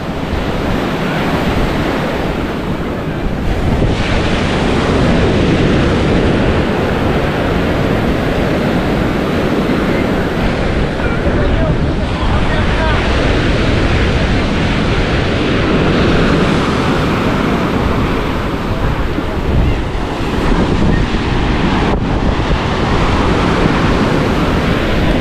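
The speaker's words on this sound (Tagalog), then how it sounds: "Alam na laki ng tubig, ang lalakas ng alon." Strong waves and a fast water current surge loudly and continuously, a dense roar of surf with gusting wind buffeting the microphone throughout, and no voices.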